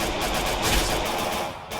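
Gunfire rattles in the Free Fire mobile battle game as a dense, continuous burst of rapid shots, loud and close with no pauses.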